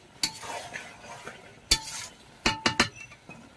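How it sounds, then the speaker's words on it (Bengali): Chicken seasoned with salt and turmeric is stirred in a pan: a soft sizzle under sharp scrapes and clinks of a spoon against the metal, with irregular spaced strikes. "আমি মাংসটাকে ধীরে ধীরে ভালো করে কষিয়ে নেব।"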